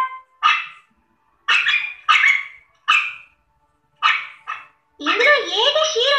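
Several dogs bark in short separate bursts, near and loud, then break into a denser overlapping run of barks and yips toward the end.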